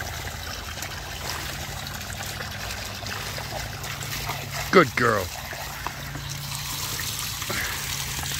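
A garden hose runs water into a pool, giving a steady trickling, splashing wash throughout, with a brief louder splash midway and a person talking over it.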